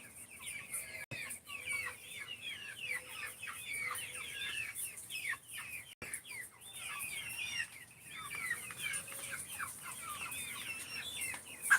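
Chickens kept in a rain-flooded yard cluck steadily throughout, a busy overlapping chorus of short clucks and calls at moderate distance with no talking.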